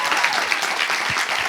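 A studio audience at a French talk show claps briefly, a dense burst of applause from many hands, heard close and fairly loud.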